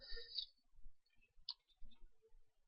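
Computer mouse clicking during an on-screen walkthrough of a project database, a few sparse, quiet clicks scattered at an uneven pace with faint low handling noise between them.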